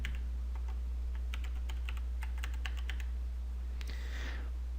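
Typing on a computer keyboard while a password is set during Windows Server VPN site-to-site setup: a run of quick, light key clicks in an irregular rhythm over a steady low hum, ending in a brief swish.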